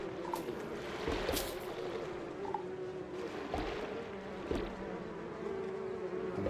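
Bees buzz steadily around a hive in the Donut County video game, a continuous close insect drone with a few louder passes, alone with no voices.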